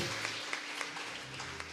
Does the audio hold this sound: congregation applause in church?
yes